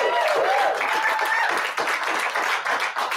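A congregation at a Sunday church service applauds a musician, with dense, steady clapping filling the room and some cheering voices mixed in.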